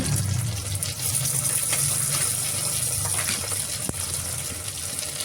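Chopped tomato goes into a pan of onions already frying until lightly browned, giving a loud, continuous hiss and sizzle that stays steady throughout, with no talk.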